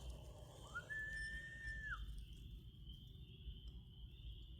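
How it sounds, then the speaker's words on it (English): A single steady whistle sounds right next to the microphone for about a second, clear and piercing over a faint background hiss. "The freaking first thing I heard on this video was a whistle right next to my ear"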